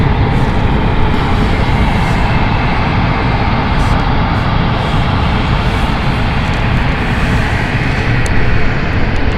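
A fixed-wing airliner at London City Airport fills the air with a steady, loud engine roar that holds evenly through the whole stretch, broadband and continuous with no talk over it.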